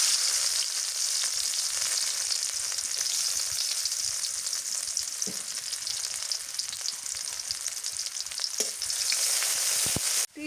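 Onion frying in a pan, cooked with garlic for a bitter gourd curry, gives a loud, even, close sizzle of hot oil with a few stirring knocks. No one speaks, and it stops suddenly at the end.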